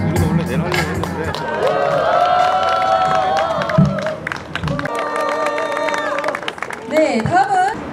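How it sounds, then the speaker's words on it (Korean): Crowd at a political rally in Sejong demanding the president's impeachment claps and cheers, steady applause blended with a busy mix of voices, calls and amplified sound, swelling again near the end. "박수입니다"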